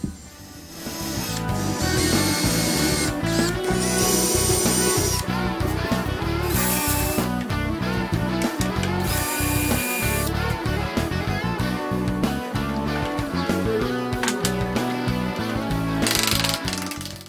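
Steady ratcheting and grinding of a hand drill boring holes into wood through a guide block, a continuous scraping crank rhythm with short pauses, close and loud.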